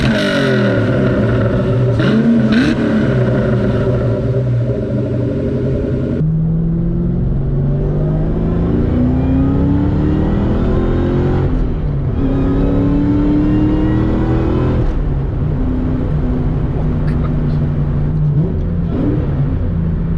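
A Cobra sports car with a modified exhaust accelerates hard through the gears, the loud engine note rising with each pull and dropping at every shift, with a steady rumbling drone throughout and no talking.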